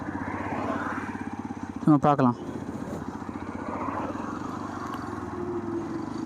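Engine of a 2025 Hero Xpulse 210 adventure motorcycle while riding, a steady buzzing drone running throughout with a brief sharp revving rise near the middle, under someone talking.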